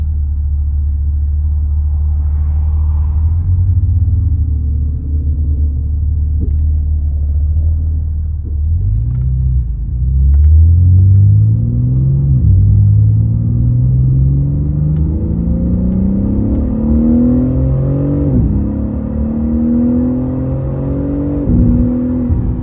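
A BMW G80 M3 Competition accelerates from inside the cabin, its engine note climbing steadily in pitch through several long, smooth gear pulls, with a deep booming resonance and a loud, continuous rumble.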